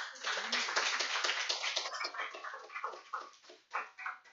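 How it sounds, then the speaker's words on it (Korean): A church congregation claps during a Sunday sermon, a thin, somewhat distant patter of many hands that thins into scattered claps as it dies away. "박수 해주겠습니다"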